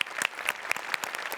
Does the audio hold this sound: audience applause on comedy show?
yes